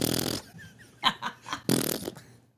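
A person imitates a machine gun with their mouth, producing a wet, spluttering burst like a fart, then a second burst follows amid short laughs and breathy chuckles, close and fairly quiet.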